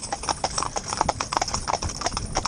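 Work horses in a trandem hitch pulling a cart, hooves clip-clopping in a steady, overlapping rhythm of crisp hoof strikes at moderate distance, with no talk.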